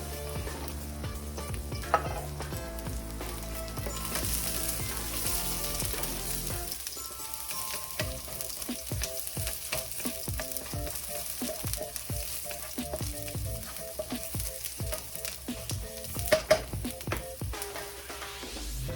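Garlic stir-frying in a pan while preparing yaki udon, a steady loud sizzle with repeated scraping stirs and a few sharp clatters of the utensil against the pan, close up with no talking.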